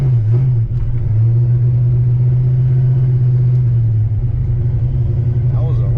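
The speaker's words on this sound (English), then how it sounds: "That was a random high idle." An old Fox-body car engine sits at a steady, loud high idle with a constant droning hum throughout, up close, with no talking.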